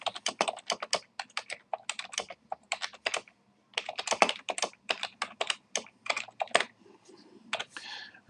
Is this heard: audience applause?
no